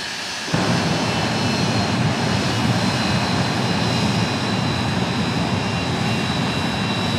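A jet truck engine at Rockford Speedway's Night of Thrills kicks in abruptly and roars continuously while torching a van, a loud, dense, unbroken jet blast that fills the whole stretch.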